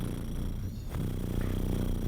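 A human voice imitating a cat purring: a low, continuous rattling rumble lasting a couple of seconds, close and steady.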